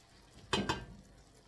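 Two quick scraping stirs of plov ingredients in a pot, close and fairly soft, with a quiet background between.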